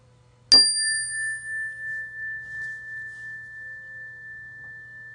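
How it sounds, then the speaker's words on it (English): A small hand bell is struck once, giving a sharp clear ding whose pure ringing tone lingers and slowly fades for several seconds in a quiet room. "I'm going to ring my little bell"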